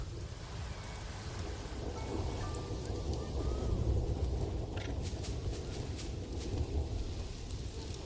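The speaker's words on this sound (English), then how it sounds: "the storm is so loud in my ears" A rain and thunder storm in the zoo-building game Planet Zoo, a continuous heavy downpour with a low rolling rumble beneath it, steady and enveloping, plus a few faint high clicks.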